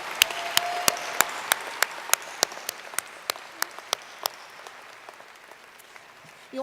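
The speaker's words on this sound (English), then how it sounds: "Please join me in a round of applause for our trustees, our legislators, and our senior leadership" Scattered applause at a 2019 Ivy Tech Community College commencement for trustees, legislators and senior leadership: sharp, distinct claps at a steady rhythm, close and fairly loud, thinning out and fading toward the end.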